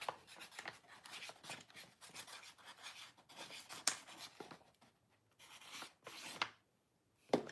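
A pen scratches across a paper envelope in quick, dry strokes, close and fairly quiet, with short pauses between bursts of writing.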